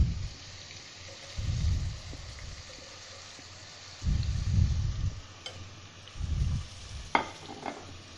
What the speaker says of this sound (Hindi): अब मैं इसमें टमाटर ऐड करने लगी हूँ।